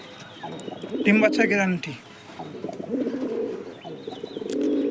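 Pigeons kept as active breeding pairs coo in soft repeated throaty bursts near the mic, while someone speaks over them briefly.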